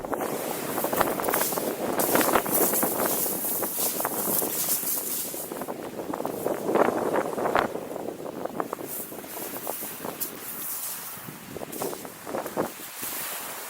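Strong wind on a shingle beach at Kingsdown on the East Kent coast, a loud continuous buffeting roar with gusty bursts and surf noise, close and unbroken with no talk.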